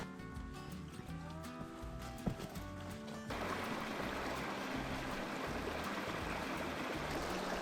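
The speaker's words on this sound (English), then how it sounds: "I've got the rustling creek there in the background" A rustling creek near Glen Lake trickles and splashes as a steady rush of running water, close by and continuous. It grows fuller and louder partway through, with a few brief knocks and footsteps mixed in.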